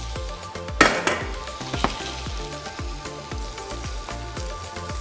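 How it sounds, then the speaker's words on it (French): Fennel sizzles and fries in hot olive oil in a pan, a close, steady crackle with a few sharp clinks of the pan or utensil near the start. "on a mis l'huile d'olive, elle est bien chaude. Je viens verser mes fenouils dedans pour les poêler"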